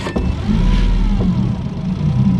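Outboard motor on a Tracker Grizzly Sportsman boat firing up on electric start: a brief crank, then the engine catches and settles into a loud, steady close-range idle; no voices.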